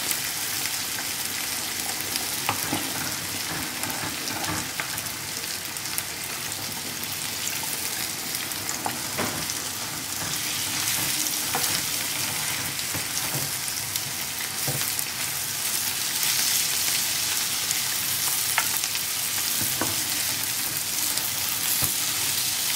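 Goan jeerem meerem stingray (skate wing) fish curry sizzles and bubbles steadily in a pan after water is added. The sound is a continuous dense hiss with occasional louder pops, and no one talks.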